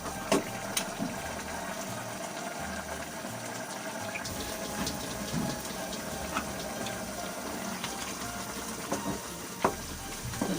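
Chicken adobo sizzles in a pan as egg is mixed in, making a steady, soft, watery frying hiss with occasional faint clinks, and no voices.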